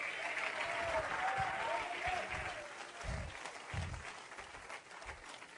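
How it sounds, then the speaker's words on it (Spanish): Church congregation giving a strong round of applause to the Lord, dense sustained clapping with some cheering, and low thumps from music or voices underneath. "Alguien dele un fuerte aplauso al Señor en esta hora."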